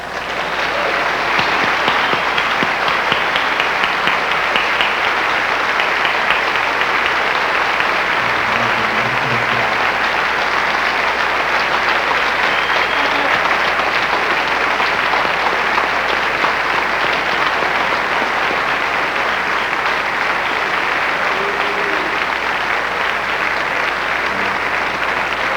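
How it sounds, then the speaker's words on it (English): A large audience at the 1993 Na Hoku Hanohano Awards gives a long, warm, unbroken round of applause for the Kiho'alu award recipient, loud and steady throughout. "Will you please welcome with a warm round of applause for this year's recipient of the Banco Kiho'alu Award, Mr. Leonard Kwan Sr."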